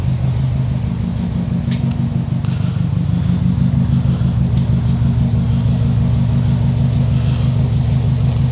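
A car engine idles steadily after its gas tank was derusted in place, a loud, even low rumble running throughout with no change in pace and no talking.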